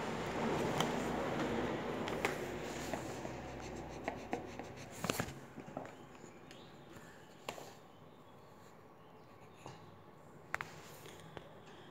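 Pencil or pen scratches across paper in a copy book, with short strokes and pauses, close and fairly quiet, fading somewhat toward the end with a few sharper taps.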